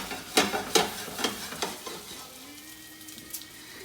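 Quarter of an onion frying in butter for pierogi gives a soft steady sizzle, broken in the first two seconds by several sharp scraping stirs.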